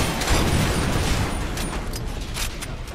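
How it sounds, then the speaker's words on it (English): Explosions in the video game Far Cry 2 fill the stretch as a dense, loud, continuous roar with scattered bursts and crackles throughout, heard alone without speech. "I have no idea what just happened, but I heard explosions."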